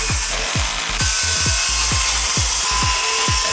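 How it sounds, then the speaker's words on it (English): Repeated bursts of a power drill biting into material, about eight short pulses in quick irregular rhythm over a constant loud mechanical whir, at a busy cabin construction site. "we're drilling on top of other people"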